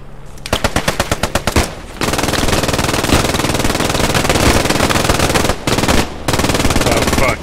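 An MG42 machine gun fires long sustained bursts in a video game, loud and close, with a quick rhythmic string of shots at the start and brief pauses breaking the continuous roar.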